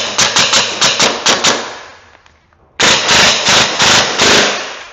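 An ARP9 gel blaster fires two rapid bursts of sharp, loud, close shots. A brief pause separates them, with a faint mechanical rattle in the gap, before the second burst runs to the end.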